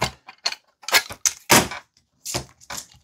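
A spanner loosening the blade on a Parkside 3-in-1 hand saw: a series of close, sharp metallic clicks and ratcheting creaks in short bursts separated by brief silences.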